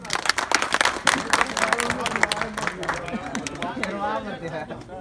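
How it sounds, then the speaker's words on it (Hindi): A crowd at a farm gathering on cow-based natural farming bursts into loud applause that fades into chatter and murmuring voices as the clapping thins out. "इनके लिए जोरदार ताली बजा दीजिए।"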